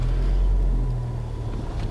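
A Ford Fiesta ST with a new intercooler and blow-off valve gives off a steady low engine drone from inside the cabin, fairly loud with no talk over it.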